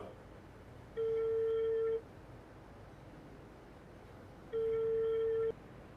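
Two electronic phone rings, each about a second long, separated by a pause, moderately loud over a quiet room background.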